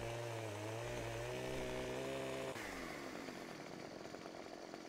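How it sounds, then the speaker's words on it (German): A chainsaw roars steadily at close range while felling a tree in Farming Simulator 2015, a sustained engine drone that shifts in pitch partway through as it cuts. "Jetzt fälle ich schnell auf herkömmlichen Wege den Baum mit der Kettensäge."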